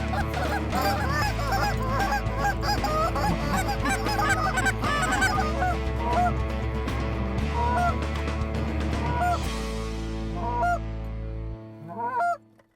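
Hunters blow goose calls in a rapid, overlapping barrage of loud honks and clucks that runs steadily before tapering into a few sparse final notes.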